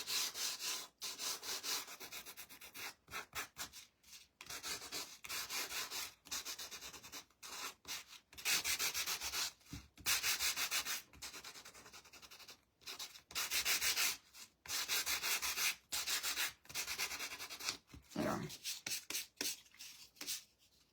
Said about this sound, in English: I do sand the cardboard